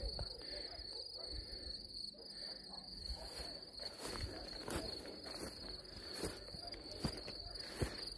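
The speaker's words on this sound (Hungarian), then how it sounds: "Évezem nagyon a tücsök ciripelést, egyáltalán nem zavar." Crickets chirp steadily at night with a continuous high, even trill, faint and distant, with soft rustling and small knocks nearby.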